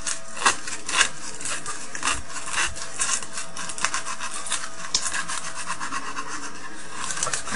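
Steady close rasping and rubbing strokes, quick and repetitive, as rolled sandpaper is worked back and forth to widen a part for an ECC83 tube amplifier, with no voices.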